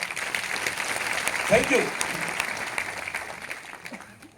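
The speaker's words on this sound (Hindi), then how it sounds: "एक बार मैं चाहूंगा फिर से सुजीत कुमार सिंह के लिए तालियां बजा दीजिए।" Meeting audience gives a brief round of applause, a moderate wash of clapping that swells and fades over a few seconds while a voice speaks briefly in the middle.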